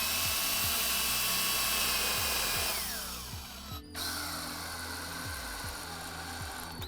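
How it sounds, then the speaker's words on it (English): A power drill with a countersink bit bores into wood while a children's ladder is being built, a loud steady whine that shifts down in pitch partway through and continues with a rhythmic pulsing, close and with no talk. "I'm using a countersink for the first hole."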